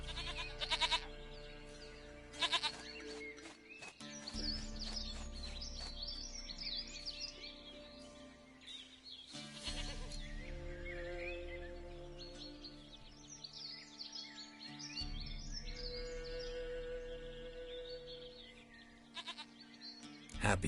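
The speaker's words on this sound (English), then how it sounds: "Goat of mine, dearest, sweetest goat." Goat bleats in The Witcher 3, repeated calls over a steady bed of game music with a few bird-like chirps, moderately loud and without talk.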